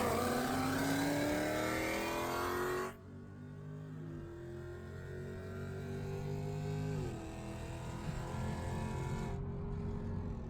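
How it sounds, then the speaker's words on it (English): Dodge Challenger ScatPack racing a Charger ScatPack howls close and loud as it accelerates hard through several rising gear pulls, with brief dips at each shift. "I've raced a Charger ScatPack and barely pulled on him."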